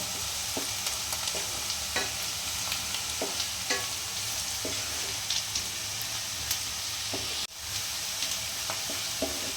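Onions frying in a pan and being stirred, a steady low sizzle broken by intermittent scraping clicks and knocks from the stirring, close and moderately quiet.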